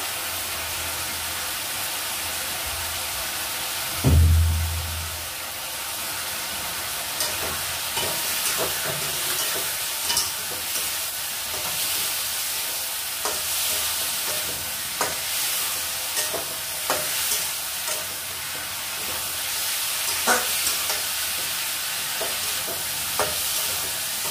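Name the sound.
sautéing spices with bay leaf in a pan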